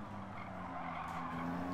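In Gran Turismo 7, a race car brakes late and its tires skid with a sustained screech over the engine drone, close and continuous.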